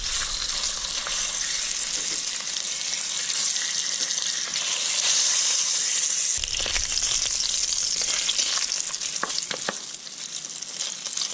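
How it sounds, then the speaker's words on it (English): Seal flipper fries in a hot pan, giving a steady, dense sizzle with crackling and spitting that stays loud throughout, then briefly surges and settles. No one speaks. "I put the seal flipper down first. I want to fry a bit on each side."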